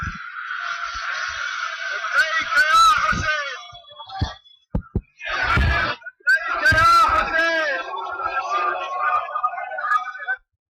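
Recorded crowd of people shouting, wailing and chanting, loud and uneven, with bursts of raised voices separated by brief gaps, played back as a recording.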